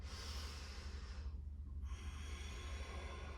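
Slow, steady breathing during a yoga session, a long airy breath sound that pauses briefly in the middle before continuing, heard close over a constant low background hum.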